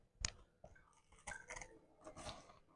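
Crunchy bites and chewing of a crispy homemade seafood cutlet dipped in Thousand Island dressing, close up: a sharp first bite, then several rhythmic crunching chews.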